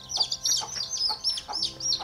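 A mother hen and her chicks in a backyard in a Konkan village give repeated high chirps and soft clucks in quick bursts, close and moderately loud.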